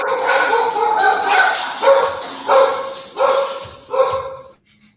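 Several dogs bark in loud, repeated bursts, about five distinct barks spaced roughly evenly, close and dominant before cutting to near silence at the end.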